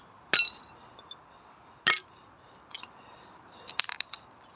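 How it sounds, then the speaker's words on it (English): Clear glass Coke bottles clink against each other while being dug out of an old rubbish tip, with several sharp chinks scattered over a few seconds, close and fairly loud against quiet ground noise. "Coke bottles, but it's white glass, so they can go back in."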